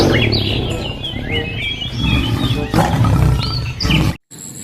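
Toy tiger giving out a loud electronic roar mixed with wild-animal and bird-call effects, running continuously for about four seconds before stopping abruptly.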